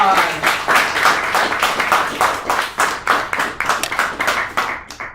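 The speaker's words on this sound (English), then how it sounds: "Big round of applause!" An audience applauds at a student speech event, a loud, sustained round of clapping with individual hand claps standing out in quick, uneven succession, close and continuous, tapering slightly near the end.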